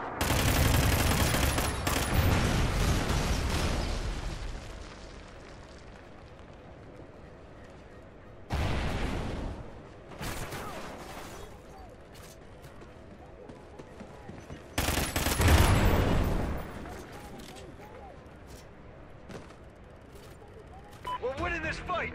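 Call of Duty battle sounds: a Trinity rocket strike and heavy gunfire burst out in loud, dense volleys, with several separate sharp blasts and rattling fusillades spread across the scene and quieter stretches of combat noise between them.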